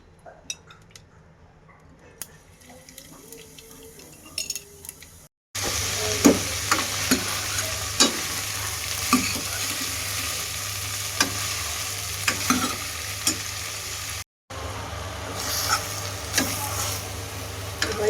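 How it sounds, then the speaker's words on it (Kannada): Spices tempering (oggarane) in hot oil in a home kitchen pan give a steady, close sizzle with scattered clinks and stirring scrapes, after a quieter opening, briefly cut twice. "ಸೊ ಇವಾಗ ಒಗ್ಗರಣೆ ಹಾಕ್ತಾಯಿದ್ದೀನಿ ನಾನು"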